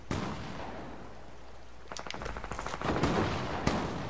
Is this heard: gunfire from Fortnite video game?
yes